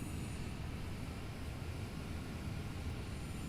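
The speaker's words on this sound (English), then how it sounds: "And I can hear, jet roar above us" A low, steady jet aircraft roar passing overhead at an airport in Microsoft Flight Simulator 2020, a faint continuous rumble with no voices.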